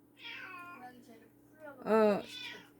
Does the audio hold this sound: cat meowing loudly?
yes